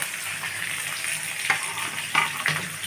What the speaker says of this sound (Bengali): আমি এখানে 3টে পেঁয়াজ কুচি দিচ্ছি। কাঁচা লঙ্কাগুলো দিয়ে দিচ্ছি